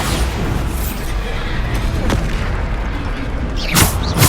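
Bombarda explosion spells in Hogwarts Legacy detonate as a continuous heavy rumble of booms, loud and close, with a sharper crack near the end.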